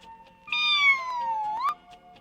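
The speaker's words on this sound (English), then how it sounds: "Gee, it's a little black kitten." A little black kitten gives one clear, drawn-out meow with a rising then falling pitch, close and alone against a quiet background, on a children's Halloween record.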